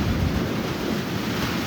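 Strong, cold wind roaring steadily and loudly against the microphone outdoors, a dense continuous rush with no break and no voices.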